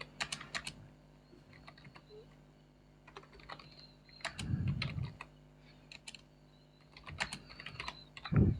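Keys tapped in irregular bursts on a computer keyboard while code is entered in a Python tutorial, close and fairly quiet, with short pauses between runs of keystrokes and a few louder low thumps.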